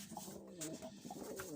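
A Turkish Takla pigeon cooing nearby: a brief, soft run of low, throaty coos and warbles, heard alone over light background hiss.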